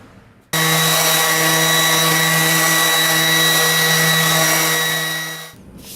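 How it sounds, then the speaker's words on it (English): Orbital sander working 220-grit paper over wooden kitchen drawer pieces, a steady close whirring drone that starts abruptly, holds even for about five seconds, then winds down, with no talking. "I'll hit it with some 220 grit with the orbital sander"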